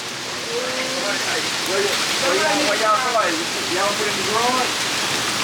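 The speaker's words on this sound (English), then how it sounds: "Oh, it's raining." Steady rain hisses across the whole stretch, with chirping birds or voices rising and falling above the wash.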